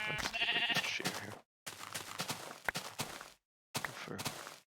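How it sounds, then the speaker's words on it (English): Sheep bleating in Minecraft, several short bleats in choppy bursts separated by brief silences, with light footsteps mixed in. "Oh, is that a sheep?"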